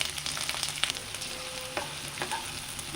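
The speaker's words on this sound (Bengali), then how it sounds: "পেঁয়াজ আর লঙ্কা দিয়ে ভালো করে ভেজে নেব" Onion and green chili fry in oil in a pan for a Bengali fish curry, giving a soft, continuous sizzle with a few scraping stirs, heard up close with no talking.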